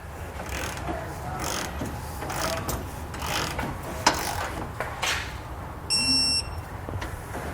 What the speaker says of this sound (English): we're going to torque it all down to the specified amount in the instructions